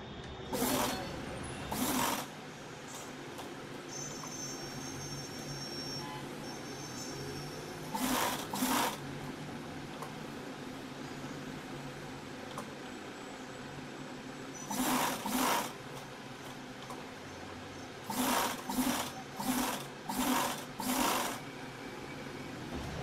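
Sewing machine stitching along the neckline of a top in short separate bursts of rapid close clatter, with quiet pauses between runs.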